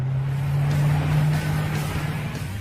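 A Koenigsegg 5-litre supercharged V8 idles with a deep, steady rumble heard from inside the cabin, loud and continuous with a slight swell and dip.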